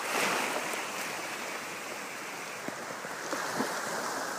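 Ocean waves wash onto a beach at Gili Trawangan at dawn, a steady broad surf rush with light wind noise and a few soft splashes, heard alone.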